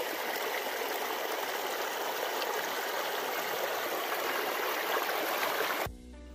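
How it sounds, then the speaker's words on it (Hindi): A village waterfall rushes in a steady broad hiss of falling water, loud and continuous throughout before cutting off abruptly near the end. "यहाँ पर आप देख सकते हैं पानी का वाटरफॉल हो रहा है, बहुत ही खूबसूरत सा वाटरफॉल है।"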